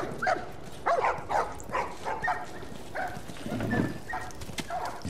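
Dogs bark in short repeated bursts, with a few yips and whimpers, in The Last of Us Remastered on Grounded mode, close and fairly loud over a low game backdrop.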